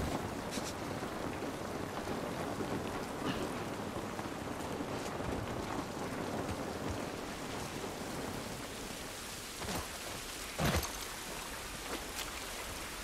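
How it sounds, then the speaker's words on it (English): Rainfall in The Last of Us Part 1, a steady faint wash of rain on surfaces with a few brief louder splashes or thumps, no voice. "This rain ain't gonna do us any good."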